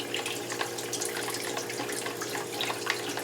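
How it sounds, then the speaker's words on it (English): Hot tap water runs steadily into a sink with soapy detergent while a crown brush is cleaned, a continuous close splashing and bubbling with no talking. "Make sure the water bubbles up. This is still hot water."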